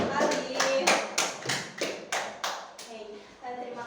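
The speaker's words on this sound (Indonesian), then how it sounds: "beri tepuk tangan sekali" A classroom group claps together for a presenting team, a run of roughly eight sharp, rhythmic, fairly close claps that fade toward the end, with faint voices under them.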